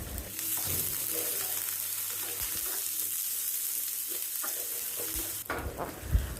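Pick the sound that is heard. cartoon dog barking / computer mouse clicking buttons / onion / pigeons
onion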